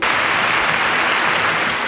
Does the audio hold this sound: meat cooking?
no